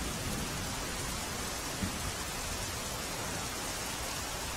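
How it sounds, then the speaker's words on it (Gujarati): Heavy rain pours steadily during flooding in Kutch, making a dense, even hiss of rainfall that is constant and close, with no voices. "ભારે વરસાદથી નદી નાળા છલકાઈ ગયા છે."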